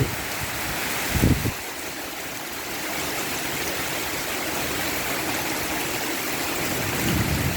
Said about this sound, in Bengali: এই যে অত্যন্ত বৃষ্টি হচ্ছে